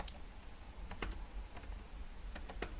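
Quick bursts of keystrokes tapped out on a computer keyboard while entering a file name, crisp clicks in short uneven runs over a quiet background, with no talking.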